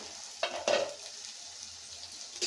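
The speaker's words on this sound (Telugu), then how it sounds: "వావ్, టమాటా ఉడుకుతుందండి" Tomato and eggplant curry sizzles softly in a pan, with a few close stirring scrapes from a spoon breaking through the steady frying hiss.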